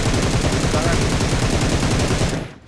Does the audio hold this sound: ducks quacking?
no